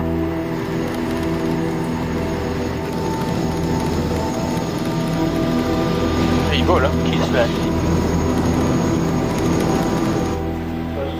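Airbus A380 airliner in high-speed flight testing near Mach 0.89, a steady loud roar of engines and airflow inside the aircraft with a constant droning hum throughout, a narrator speaking over it.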